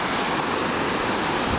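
Sea waves wash up onto a beach on Fuerteventura in a steady, loud, broadband rush of surf that fills the whole moment, with no voices.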